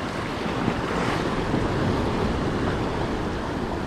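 Big ocean swell breaks on a UK shore at night, a loud continuous wash of surf mixed with buffeting wind noise against the microphone, with no speech heard.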